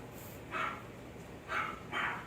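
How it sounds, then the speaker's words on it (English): Three short, moderately loud dog barks sound alone over a faint background hiss, played back as a recording to four-week-old German Shepherd puppies. "Now the sound of a dog barking."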